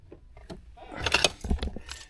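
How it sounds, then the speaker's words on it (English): Car keys for a 1989 Ford Mustang GT convertible jangle close by in a brief, metallic cluster of clinks and rattles that swells and fades within a couple of seconds, with no speech. "I guess it makes sense to find the keys first."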